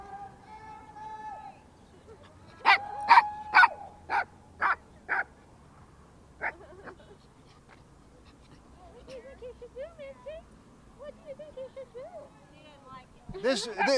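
A dog gives several sharp, loud barks in a quick series, then whimpers and yips more faintly, with quieter stretches in between.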